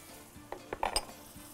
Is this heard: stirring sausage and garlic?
yes